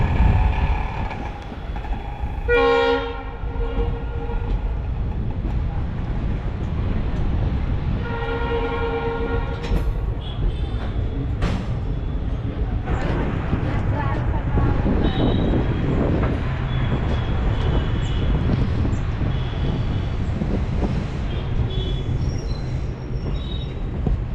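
A train rumbles steadily close by at Nanjangud railway station, wheels clattering over the rails, with a couple of short horn blasts early on and some metallic squeals later.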